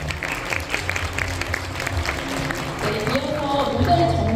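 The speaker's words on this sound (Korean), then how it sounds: "여러분 다시 한번 뜨거운 박수 부탁드립니다" Audience applause at the TV Chosun Global Leaders Forum 2025 after a keynote speech, steady clapping from a large crowd filling the hall for several seconds, with some voices and stage sounds mixed in toward the end.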